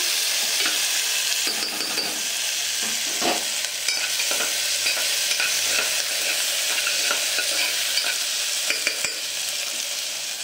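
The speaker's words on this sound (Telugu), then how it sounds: "ఇగో స్పూన్ పెట్టుకొని కలుపుదాం" A spoon stirs monitor lizard curry with curry leaves in a pan, scraping steadily over a continuous close sizzle, with occasional clinks and no talking.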